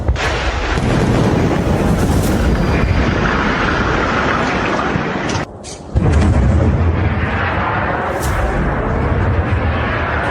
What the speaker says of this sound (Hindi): बुशहर प्रांत में कई धमाके सुने